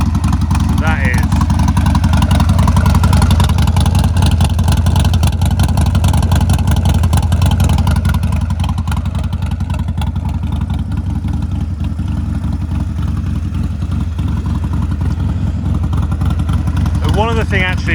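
A Harley-Davidson 48 motorcycle with a new loud aftermarket exhaust, running steadily close by, its deep, rumbling engine note droning and revving throughout without a break.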